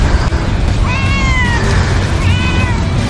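A cat gives two distinct, drawn-out meows, loud and close, over a steady noisy outdoor background at a fishing spot.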